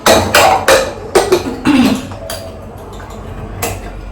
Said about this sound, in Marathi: कुकरचं झाकण लावून घेते.